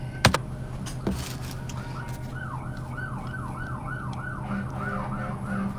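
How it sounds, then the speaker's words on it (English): An ambulance siren wails in a steady rising-and-falling pattern as it passes outside, moderately loud over a background hum, with a couple of sharp knocks nearby early on and no talking. "it's been constant of ambulance going by."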